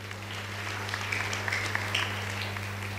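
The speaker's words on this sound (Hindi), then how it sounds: "एक बार इनके लिए भी तालियां बजा देना" Audience at a religious gathering in Sawai Madhopur clapping at moderate level, scattered claps over a steady electrical hum, no voices.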